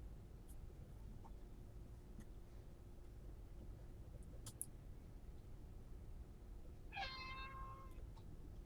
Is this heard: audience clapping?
no